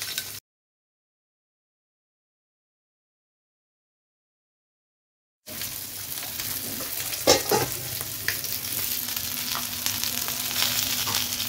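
Marinated food frying in a pan and stirred once: a short burst of sizzle, several seconds of dead silence, then a steady louder sizzle with one distinct stirring scrape and clatter.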